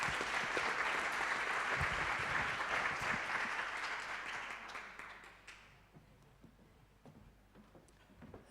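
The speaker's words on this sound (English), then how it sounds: "I would like to invite you to once again applaud him for this recognition." An audience claps for a recognition at an academic closing ceremony, the applause dense and loud at first, then thinning out to scattered claps before a final clap.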